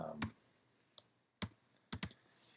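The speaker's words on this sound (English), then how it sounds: "under Effects, we'll just type in" Keystrokes on a computer keyboard while typing into an editing program's effects search, a handful of sharp isolated clicks spaced irregularly in a quiet room.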